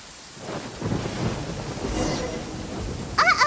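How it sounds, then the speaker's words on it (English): Rumbling thunder with steady rain in a storm in the video game Genshin Impact, a continuous low roll under rainfall, with a brief voice at the end. "Uh-oh! Lightning"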